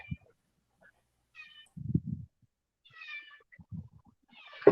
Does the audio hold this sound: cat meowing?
yes